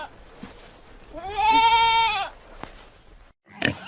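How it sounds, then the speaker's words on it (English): A goat gives one clear, drawn-out bleat of about a second, loud and close, with a short click and quieter farm noise around it. "goat,"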